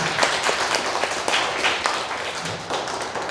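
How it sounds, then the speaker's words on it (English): An audience applauds at a school debate final, a dense, steady burst of clapping from a crowd filling the room at a continuous level throughout. "It's okay, you can give him a round of applause."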